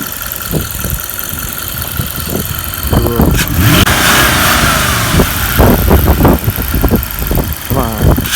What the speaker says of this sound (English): Let's see you rev the engine.